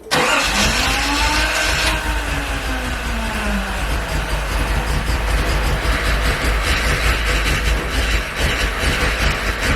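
A Datsun 280ZX cranking and trying to start, a loud, continuous mechanical churning with a rising and falling whine, recorded up close.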